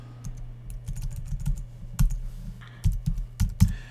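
A computer keyboard is typed on steadily and up close as information goes into a WordPress dialog box. Keystrokes come in irregular runs with short pauses, with no talking.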